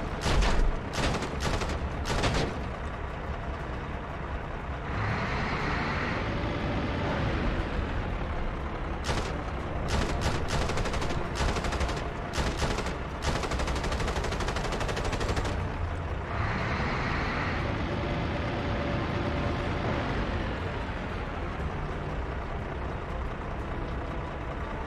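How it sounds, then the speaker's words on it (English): Gunfire in DCS World Combined Arms comes in repeated bursts of sharp automatic shots over a constant heavy vehicle engine rumble. The bursts cluster early and again mid-way, loud and close. "someone's firing at me"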